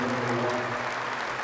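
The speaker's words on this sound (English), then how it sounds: "A 7th-minute round of applause." A stadium crowd at Headingley applauds steadily for Rob Burrow, former Leeds number 7, in a dense, sustained wash of clapping that holds evenly throughout with no pause.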